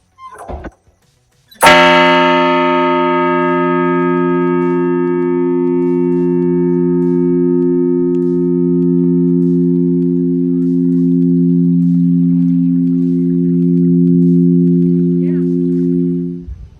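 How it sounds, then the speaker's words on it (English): A heavy old lighthouse bell in Northern Michigan is struck once, giving a loud clang followed by a long, deep, steady hum that fades slowly over many seconds, heard alone. "Behind the lighthouse, there's an old bell that's even heavier than the Liberty Bell."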